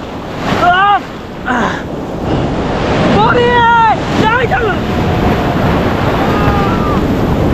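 Big waves break and surge on the beach at Puri, a sustained close roar of surf and wind noise, with a loud excited voice calling out in short bursts on top.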